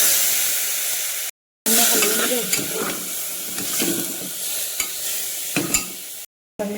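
Chicken sizzles in ghee with onion and turmeric inside a pressure cooker for chicken biryani, a loud continuous frying hiss with stirring clatter and spoon knocks against the pot, broken by two short silent gaps.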